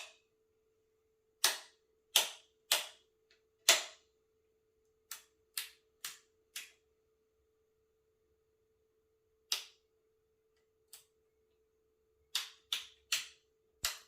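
Switches on a custom-built A-10C simpit master control panel click in sharp, isolated snaps, some in quick runs of three or four and others alone, with silence between them and a steady faint hum beneath.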